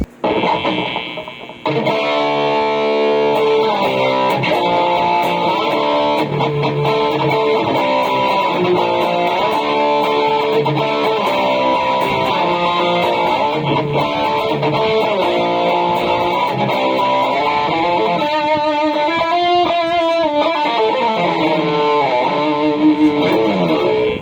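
Distorted electric guitar through a NUX MG30 amp modeler with an impulse response loaded, playing continuously with chords and sustained notes, heavy amp tone with effects, loud and steady throughout.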